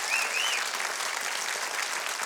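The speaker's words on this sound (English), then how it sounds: "Give them a very well-deserved hand of applause." Audience applause for a band, a dense, steady wash of clapping that holds at even loudness for about two seconds with no voices.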